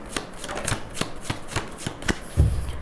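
Tarot cards being shuffled and drawn: a quick, regular series of crisp riffling flicks close by, ending with a soft thump as the deck settles, no talking.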